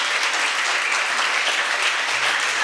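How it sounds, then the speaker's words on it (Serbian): An audience applauds a dancer after a dance performance at the Bosifest 2023 festival opening. The clapping is dense, even and sustained at moderate loudness throughout, without cheering or speech. "Molim još jednim aplauzom da pozdravimo ovu umetnicu."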